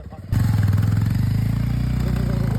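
A motorcycle engine struggles along a muddy trail as deep as a flooded rice paddy. It kicks in abruptly and close up, then holds a steady, throbbing, labouring note for a couple of seconds.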